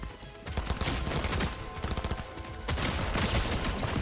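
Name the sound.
gunshots from the video game Fortnite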